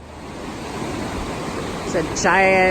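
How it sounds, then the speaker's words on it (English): Steady broadband rush of waterfall runoff cascading into Green Mountain Reservoir, loud and continuous throughout, with someone speaking briefly over it near the end. "waterfall cascading runoff heading into Green Mountain Reservoir"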